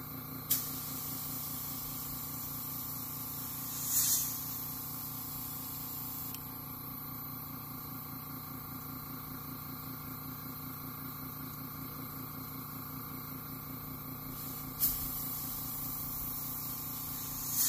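An airbrush sprays paint onto a Hinko Mini KO in a steady, soft, even hiss held for a long stretch, broken by a few brief sharper bursts and clicks, close and fairly quiet.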